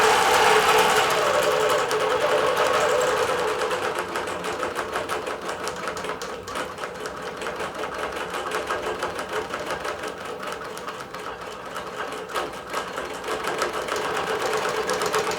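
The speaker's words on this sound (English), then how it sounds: "I'm using a Bernina Q24 with schematic and art and stitch digitizing software." A Bernina Q24 computerized quilting machine runs edge-to-edge stitching on a quilt with a loud, continuous mechanical hum and rapid clatter that holds steady throughout, with no voices.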